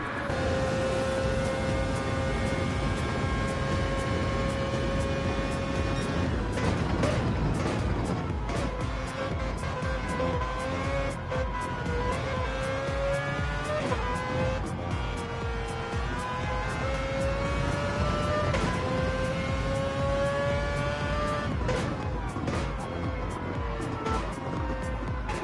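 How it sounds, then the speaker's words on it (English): Onboard sound of a rotary-engined GT3 race car lapping Spa, a loud continuous buzzing engine whose pitch climbs through each gear and drops at upshifts, running alone for the whole stretch. "so you can hear the pure power of this rotary engine"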